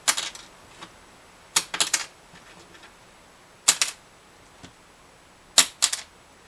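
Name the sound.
plastic guitar saddle dropped and bouncing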